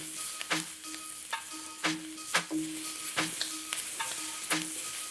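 Chicken sizzles and blisters steadily in a hot pan, with a bright crackling hiss and several sharp pops and clatters spaced a second or so apart.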